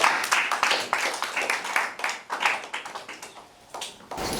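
Audience applause for a speaker at an intraschool debate, Highscope School, Ojodu, Lagos: a steady patter of many hands clapping close by, swelling and dipping for about four seconds.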